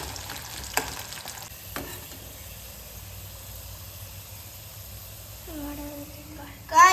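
Potato snack pieces frying in hot oil give a steady, low sizzle with a few sharp utensil clicks, and a brief louder scrape near the end.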